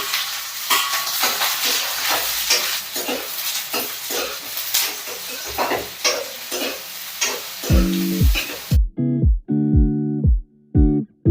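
Paneer bhurji sizzles and fries in a pan with steady crackle and scraping stir strokes, close and fairly loud, until the frying noise cuts out and tonal electronic beeps or music take over near the end.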